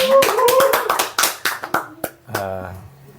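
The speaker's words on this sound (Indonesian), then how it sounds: "Tepuk tangan dulu dong." A small group claps hands on a village podcast set, a brisk burst of claps that thins into a few scattered slaps before a voice begins speaking.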